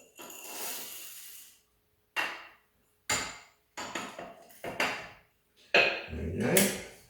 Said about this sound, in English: I've got about 19 grams of coffee, and it's going to be put inside my grinder.